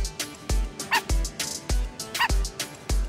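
A dog on a city street in a crime audio drama yelps and barks in several short, sharp bursts with whimpering cries between them, close and fairly loud.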